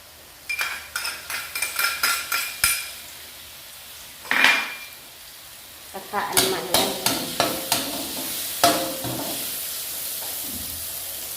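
Mixed vegetables stir-fried in a pan, with a run of quick metallic scrapes and clinks of a utensil against the pan over a soft sizzle, a short pause, then another burst of stirring strokes.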